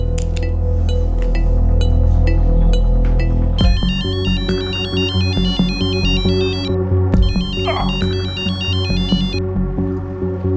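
A telephone rings during a call, a repeating electronic ringtone with bright warbling tones, loud and close, cycling in bursts with short pauses and no talking.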